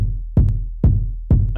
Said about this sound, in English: I put muffled bass drum kicks.